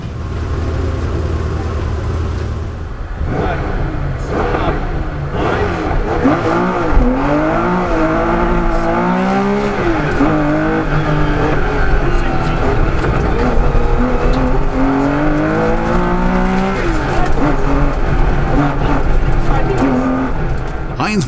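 Historic rally cars race through a stage mixing tarmac and gravel, engines loud and continuous with rising and falling revs as they pass, tire noise underneath, and an announcer speaking over the action.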